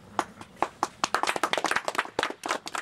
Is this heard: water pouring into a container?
no